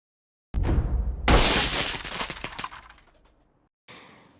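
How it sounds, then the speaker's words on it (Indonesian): A Jumanji game board is smashed to pieces in a film scene: a sudden heavy crash bursts into bright shattering and rattling fragments that trail away, then a faint short noise follows after a pause. "Fridge yang merusak game Jumanji hingga hancur berkeping-keping"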